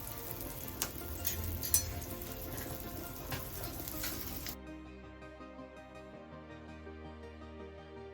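Bombay duck (bombil) fish frying in a pan just after being flipped, a close crackling sizzle with sharp pops that gives way to a quieter, fainter tail.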